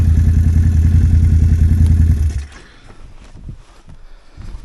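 A Can-Am Outlander XXC 1000 ATV from 2024 revs loudly and close up with a strong low engine drone, then cuts off sharply at about halfway, leaving faint rumbles and clatter from the machine.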